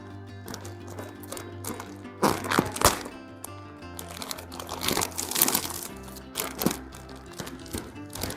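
A pack of baby diapers is unboxed, its plastic packaging crinkling and rustling in close, uneven bursts with occasional thunks, over faint background music.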